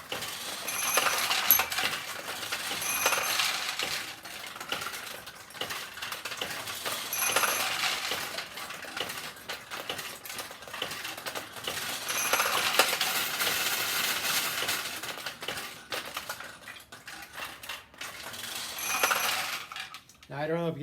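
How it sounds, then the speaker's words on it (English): Metal balls pour and rattle down from the upper hopper of a vintage Nishijin Model A pachinko machine, a dense continuous clinking cascade that swells in repeated waves over about twenty seconds, with no voices. "the upper hopper opens up and a whole bunch of them just shoot down"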